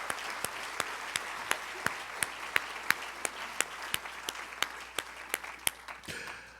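A church congregation gives fairly faint, scattered applause. Individual claps land at an irregular but steady pace for several seconds, then fade near the end.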